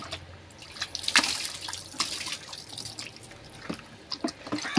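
Water from a hose splashes and drips while a cow is being bathed, a light irregular spatter with scattered drops and trickles close by, fairly quiet overall.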